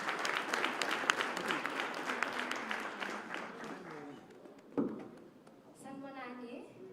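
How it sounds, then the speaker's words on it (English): Audience applause for the moderator at a Youth Month launch event swells for a few seconds, then fades as a voice begins speaking over the room. "Can we give her a round of applause?"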